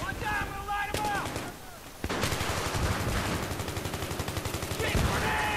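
Rapid automatic gunfire from an M60E4 machine gun in a first-person shooter video game, with dense repeated bursts after an opening stretch where voices talk over the game audio.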